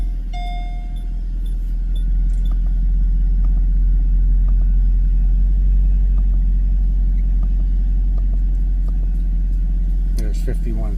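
A 2009 Mercedes-Benz SL63 AMG with its 6.2 liter V8 running, a deep steady engine rumble heard close by that swells after the first couple of seconds and then holds an even idle.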